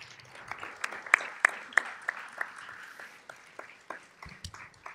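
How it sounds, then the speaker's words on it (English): An audience claps for a panel at an evening event, with a few sharp, distinct close claps over a softer spread of applause that gradually thins and fades. "So please give our great panel a round of applause."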